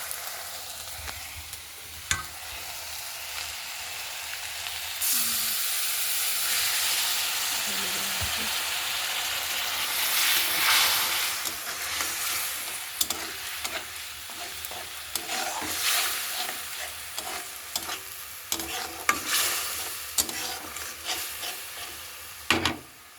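Black cumin, five-spice, bay leaf and cumin fry in hot oil in a pan, with a steady close sizzle, bursts of hissing and frequent stirring scrapes and clicks throughout, and a voice speaking at moments.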